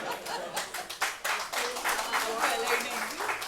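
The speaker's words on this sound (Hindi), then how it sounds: "एक ताली बजिए" Audience clapping at a Hindi poetry gathering in the Delhi Legislative Assembly, a burst of hand claps that settles into steady applause, with voices talking over it.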